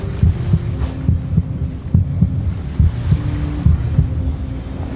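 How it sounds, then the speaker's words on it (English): A heartbeat sound effect thumps in the video game Genshin Impact, a steady, close, repeating double pulse over a low droning hum. "Why is my heart beating or something?"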